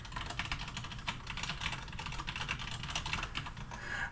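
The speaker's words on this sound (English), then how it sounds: "So we'll type in the URL of my website." Rapid, steady clicking of a computer keyboard as a website URL is typed in, close and clear, with no voices.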